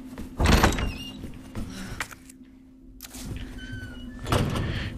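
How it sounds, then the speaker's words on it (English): An electronic door slides open in Resident Evil 2, a mechanical whoosh with thunks near the start and again at the end, surrounded by faint game ambience. "Electronic door panel."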